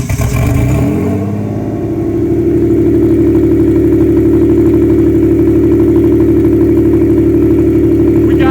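A Honda Accord rebuilt as a Lamborghini replica in a Bangkok residential street gets revved, its engine swelling loudly within the first seconds and then holding a steady, throbbing drone close by with no talking.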